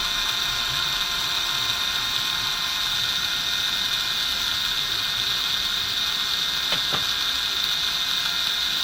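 A steady, high-pitched whirring drone of an electric motor seating newly installed brushes runs continuously, with a slight mechanical ratcheting texture and one brief click near the end.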